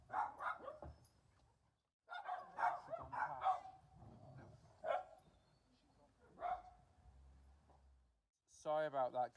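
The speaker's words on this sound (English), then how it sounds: "It's them dogs barking is one another." Several dogs bark and yip in short bursts, fairly close, with someone talking in between and a whining tone at the end.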